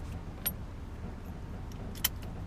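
Two keys for a Master Lock padlock are shaken, giving a couple of brief metallic jingles over a steady low background rumble.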